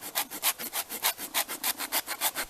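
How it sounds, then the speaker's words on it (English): A plain wood rasp, rounded on one side and flat on the other, files a chunk of chaga held in the hand. About twenty even, rhythmic scraping strokes follow one another, close and steady, with no talking. "I take just my plain old wood rasp that's rounded on one side, flat on the other"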